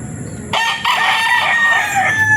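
A Popeye grey gamefowl rooster on a farm crows once, loud and close, in a long bright drawn-out call after a moment of quieter background.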